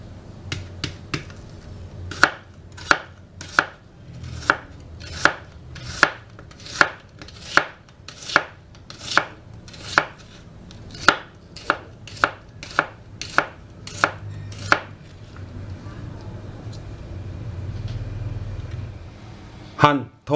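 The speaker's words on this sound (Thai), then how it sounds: "สไลด์หอมใหญ่" Onion being sliced with a knife on a cutting board for Japanese oyakodon, a steady run of about twenty crisp, evenly spaced chops close up, followed by a short pause and a final cut.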